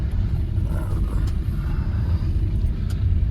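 A car rolls down a snowy hill in Santa Fe with a low steady rumble of engine and tyres heard from inside, close and continuous, with faint scattered ticks over it.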